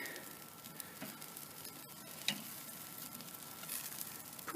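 Steaks sizzle steadily in a hot pan, a faint continuous crackle and hiss with a few small pops, no voices.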